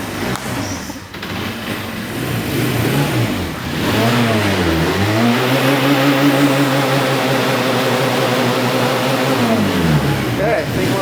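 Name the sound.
estate auction motorbike engine running and revving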